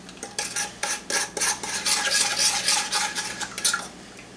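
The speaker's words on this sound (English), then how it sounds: "Go ahead and mix this up." Seasonings are stirred into melted butter and olive oil in a bowl, a close, irregular scraping and clinking of utensil against dish in quick repeated strokes.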